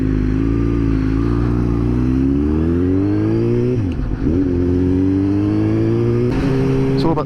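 A Suzuki GSX-S 750 with a Power Commander 5 custom tune revs loudly and steadily while being ridden. Its engine note climbs, briefly dips and wavers, then climbs again, close and continuous throughout.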